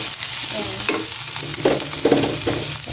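Vegetables, chayote among them, are sautéed in a hot pan, with a steady loud sizzle and repeated scraping stirs of a utensil close by, with no talking.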